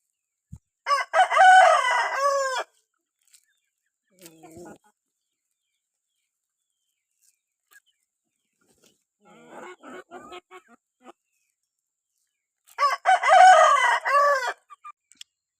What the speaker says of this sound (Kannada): ಅಲ್ಲಿ ಊರೊಳಗೆ ಯಾವುದೋ ಕೋಳಿ ಕೂಗ್ತಾ ಇದೆ